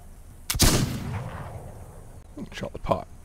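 Gunfire in the video game This Land Is My Land: one loud, sharp shot with a rolling echo, then a quieter pair of cracks a couple of seconds later, with a voice talking over the sounds.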